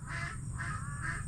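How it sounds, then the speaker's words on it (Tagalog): Crows call repeatedly over a corn field, three harsh rhythmic caws at moderate distance over a low steady background hum. "Aba, pakadami na naman po ng uwak."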